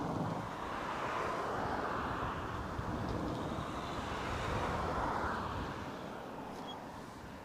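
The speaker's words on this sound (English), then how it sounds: "I could swear I can hear a plane." Airplane at Barcelona El Prat airport, a steady, fairly faint broadband roar that swells gently and fades slightly toward the end, with some wind noise.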